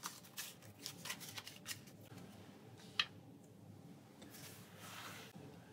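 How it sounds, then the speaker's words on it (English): Cards for the Pathfinder Adventure Card Game are shuffled close up, with soft riffling and sliding flutters over several seconds and a sharp tap in the middle, quiet and alone with no talking. "shuffle those into the location"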